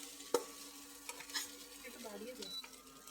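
A spoon stirs a spicy chips mixture with salt in a bowl, giving soft scraping and sporadic light clicks with one sharper tap near the start. The sound is faint, and a voice talks at low volume in the background.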